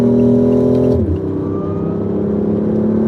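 A fast car accelerating through traffic among trucks, its engine note holding steady and then dropping in pitch as it shifts, loud and close throughout with no talking.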